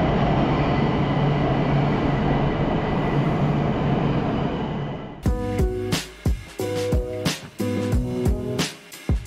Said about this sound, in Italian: Abbiamo preso la metro, siamo catapultati nel centro.